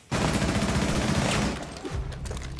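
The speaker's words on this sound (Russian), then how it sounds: "я стрелял в камеру" Loud, dense automatic gunfire from the video game Rainbow Six Siege rattles continuously for about a second and a half, then eases into quieter scattered shots.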